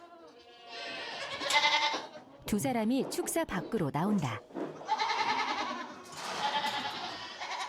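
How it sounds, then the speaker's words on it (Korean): A small black goat bleats repeatedly in a goat shed as it is picked up and held, its wavering cries loud and close, alternating with someone narrating. "작은 흑염소 한 마리를 들어서 안는다"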